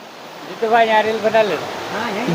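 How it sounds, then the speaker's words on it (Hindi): A powerful waterfall at Gidiya Khoh near Indore, plunging from a great height, makes a steady broad rushing roar under someone speaking loudly. "आप देख सकते हैं बहुत ही धुआंधार झरना, जिसे आप वाटरफॉल कह सकते हैं।"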